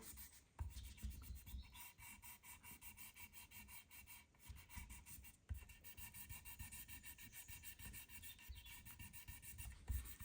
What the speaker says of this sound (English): for sanding in between the frets, I'm still using a small block just to keep everything nice and flat